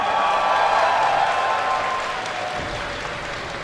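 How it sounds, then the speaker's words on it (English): A crowd at a StarCraft 2 tournament applauds and cheers in a large hall, a dense, sustained wash of clapping that stays loud throughout and eases slightly toward the end. "Give a cheer for Naniwa!"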